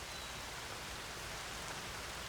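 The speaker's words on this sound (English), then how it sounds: "now we're getting some good rain" Rain falling outdoors in spring, a steady, even hiss of drops across the whole stretch, with no other sounds standing out.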